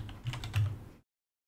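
A short burst of quick keystrokes tapped on a computer keyboard, close and fairly soft, lasting about a second before cutting off to silence.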